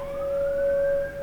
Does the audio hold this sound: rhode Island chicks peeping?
no